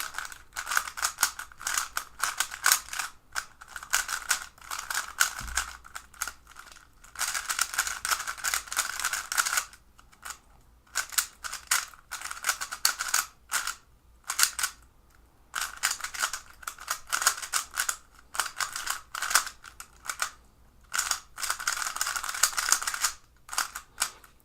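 A MoYu WeiLong WR M speedcube clicks and clacks through rapid turns in quick bursts of crisp plastic rattling, broken by brief pauses.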